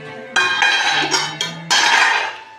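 A large metal anjarai petti spice box is opened, its metal lid clanking and ringing in a few bright, resonant strikes with a sustained metallic shimmer, close and fairly loud.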